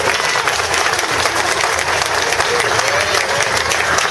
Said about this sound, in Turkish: Seyfi Bey'e şöyle güçlü bir alkış alalım